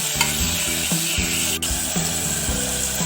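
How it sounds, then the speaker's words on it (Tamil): Tomatoes, onions and green chillies sauté in a pan for beetroot sambar, giving a steady close sizzle under a rhythmic scrape and thump of a spatula stirring every half second or so, with no voices. "ஒரு நிமிஷம் வதக்குறேன்."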